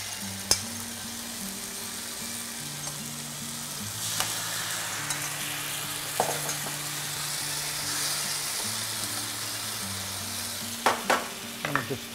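Tomatoes go into a hot pan where veal is browning alongside tender aromatics, giving a steady, close, even sizzle throughout, with a few brief clatters and soft background music underneath.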